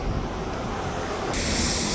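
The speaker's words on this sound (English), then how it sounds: "That would be the train coming through this way to pick up the" A train rolls through the SRY rail yard near the Queensboro Bridge, a steady broadband rumble and hiss that grows brighter and louder toward the end, with no voices over it.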